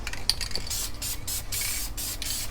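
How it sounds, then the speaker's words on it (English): Spray can misting adhesion promoter onto a plastic dash bezel, a steady close hiss in several short bursts separated by brief pauses, with no talking. "and spray this piece down."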